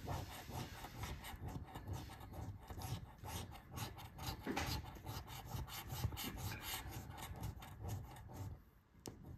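Steady rasping scrape of a coin working across an FDJ scratch-card lottery ticket, continuous close rubbing strokes with brief pauses, dropping off near the end.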